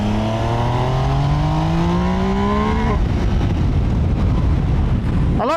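A Triumph Trident 800 triple-cylinder motorcycle revs hard inside a tunnel, engine pitch climbing steadily through the gears, then a brief break and a fresh sharp rev at the end, loud and echoing.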